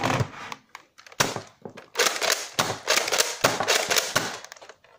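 A Nerf blaster bought secondhand is slam fired: a rapid run of loud, close plastic clacks and thumps in quick bursts, with brief pauses between volleys.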